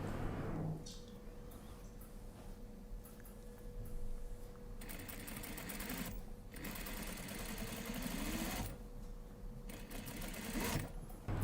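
A sewing machine runs in long bursts, stitching a coat's facing to the button stand, its steady mechanical whir broken by short pauses between seams, with no one talking.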